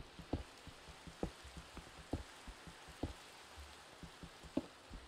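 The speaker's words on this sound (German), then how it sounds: "Es regnet hier so viel wie bei uns daheim hier, ey." Steady rain in Minecraft, falling on surfaces with irregular louder drop impacts popping out every second or so over a soft continuous hiss, no voices.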